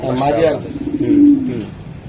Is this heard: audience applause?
no